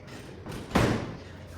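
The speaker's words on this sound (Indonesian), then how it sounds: "Permisi, Ibu, mau tutup pintu." A classroom door is shut with a single sharp slam and a thud, standing out from a quiet room with faint background murmur.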